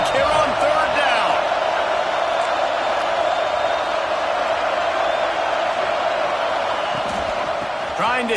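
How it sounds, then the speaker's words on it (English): An Auburn home crowd roars in a college football stadium on third down against Georgia Tech, a dense, steady wash of cheering and whooping that holds at a loud level for several seconds and sounds vast and distant. "This Auburn crowd trying to conjure up a little magic here on 3rd down."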